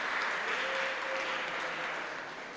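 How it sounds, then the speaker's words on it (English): Guests at a 40th-year alumni association celebration in Chennai clap together in steady, fairly faint applause that tapers slightly at the end. "Clap for yourselves, please."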